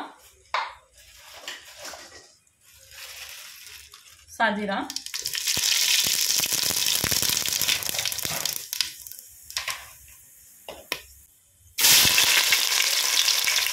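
Cloves and shahjeera crackling in hot oil in a pan while cooking dhaba-style chicken; bursts of sizzling swell and fade, with quiet stretches and brief talk between them, then a loud sizzle resumes near the end.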